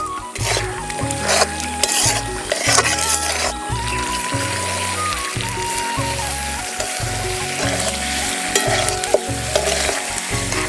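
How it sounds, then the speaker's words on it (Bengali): Fried potatoes sizzle in a spiced masala as they are stirred in a pan for an aloo dum, a continuous close hiss with scraping stirs, set under steady background music. "এবার ভেজে রাখা আলু দিয়ে দেব।"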